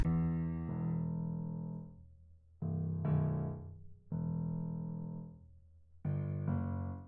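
Four deep, sustained piano bass notes for an FL Studio beat played one after another, each ringing out and slowly decaying before the next, with no voices.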